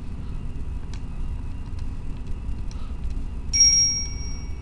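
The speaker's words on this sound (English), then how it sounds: "Oops, I forgot to silence my phone." A mobile phone gives a single bright ding, a brief notification chime rising clearly over a low steady background hum in a quiet room.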